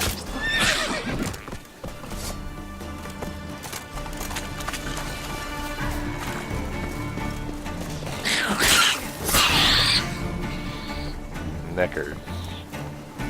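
A horse in a video game gallops with rapid clip-clop hoofbeats and lets out several loud neighs and whinnies, while someone talks and calls out over the game sounds.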